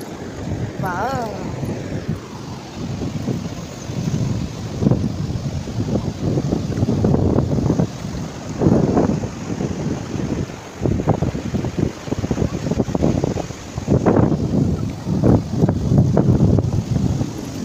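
Cold wind blows at Diveagar beach, a steady rush and buffeting on the microphone over distant surf, loud and continuous, with people talking throughout.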